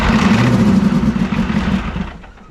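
An indirect injection diesel engine in a junkyard Ford wrecker runs loud and close, a rough, heavy idle with a strong low throb that slowly tapers off toward the end, with no voices over it.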